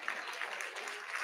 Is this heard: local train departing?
no